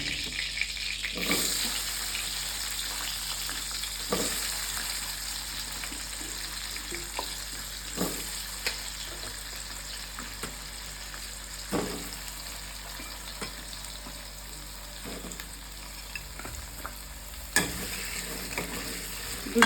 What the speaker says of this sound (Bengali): এবার ওই তেলের মধ্যেই আমি দিয়ে দেবো আলু